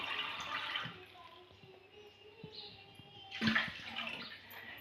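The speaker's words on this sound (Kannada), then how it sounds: "ಇವಾಗ 4 ಗ್ಲಾಸ್ ನೀರು ಹಾಕ್ಕೋಬೇಕು." Water from a glass poured into a cooking pot in a home kitchen, a splashing, running pour at moderate level that swells again near the end, with faint background sounds.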